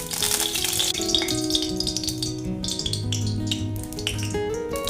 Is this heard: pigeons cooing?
no